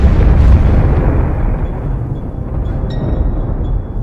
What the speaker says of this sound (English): Whenever it comes into contact with normal matter, the two annihilate each other in a ferocious blast of energy.